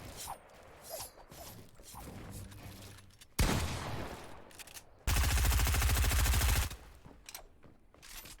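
Gunfire in Fortnite Battle Royale, with loud, abrupt shot bursts, one short and one longer sustained rattling volley, over a quiet game background with no talking.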